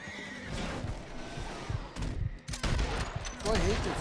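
A horse whinnies and snorts amid Red Dead Redemption 2 game action, with scattered gunfire-like bangs and clattering hooves; a voice can be heard faintly in the mix.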